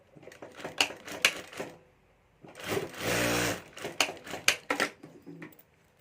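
A sewing machine stitches a zip onto the border pocket of a homemade clutch bag, running in short bursts with a few clicks between, then one longer steady run in the middle before more brief bursts.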